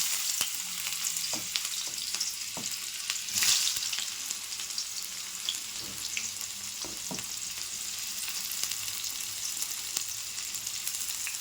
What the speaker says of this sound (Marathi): तेल गरम झाले आता कांदा टाकते